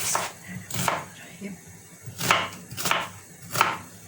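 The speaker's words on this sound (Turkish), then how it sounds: "soğanımı doğramaya başlıyorum" A knife chops through onion on a board in a few uneven strokes, crisp thuds with a little kitchen clatter in between.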